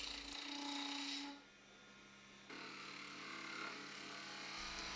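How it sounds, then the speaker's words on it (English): A woodturning gouge traverses across the face of spinning wood on a lathe, giving a continuous close rasping, shaving hiss that drops briefly, then resumes over the lathe's low hum. "traverse the gouge across the face of the wood"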